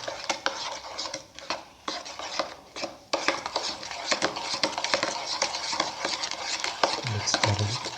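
A spoon stirs sugar into watermelon banana milk in a bowl, scraping and clinking steadily for several seconds in a busy, continuous rhythm, close and fairly loud.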